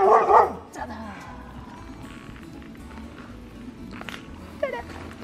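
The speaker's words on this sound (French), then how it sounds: "le chien est là pour nous dire qu'on ne s'est pas trompé de chemin" A dog barks in a quick loud burst at the start during a countryside loop walk near Villers-le-Temple and Nandrin, followed by footsteps, outdoor ambience and a brief yip later.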